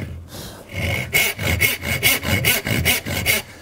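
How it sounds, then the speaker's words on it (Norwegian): A hand saw cutting through wood, starting with a couple of light pulls and then settling into a steady, rhythmic back-and-forth of rasping strokes, close and clear with no talk. "Start med å dra et par ganger, så sager jeg rett ned."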